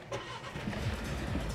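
An Audi Q2 salvage car at an auction yard cranks and its engine catches, settling into a low, moderately close rumble with no talk.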